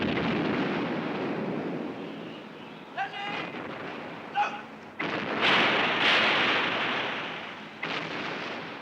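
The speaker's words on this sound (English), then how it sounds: "Hundreds of cannons opened a barrage of hellfire on Turkish positions." An artillery barrage from hundreds of cannons firing on Turkish positions in Palestine in 1918, heard as a dense rumbling roar with several sharp booms and blasts over it, swelling and fading, beneath narration.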